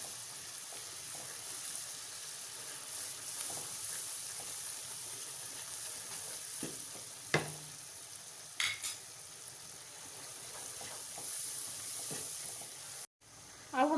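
Spices and masala, including black pepper, coriander powder and cumin, roast and sizzle in a pan, a steady faint frying hiss with occasional stirring scrapes and clinks close by.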